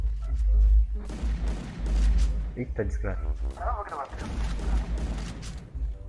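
Gunshots in the video game Minecraft go off as a few heavy low booms near the start, mostly buried under excited talk from a player.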